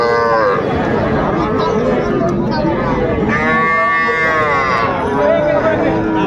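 Small bulls and heifers moo loudly and repeatedly at a cattle market, long drawn-out calls close by, over a steady murmur of people talking in a busy crowd.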